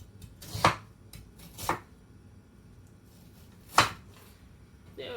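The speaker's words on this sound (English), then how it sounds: "Onions cut up." A knife chopping onions on a cutting board: three sharp, separate chops spaced about a second or two apart, followed by another starting at the very end, with near silence between them.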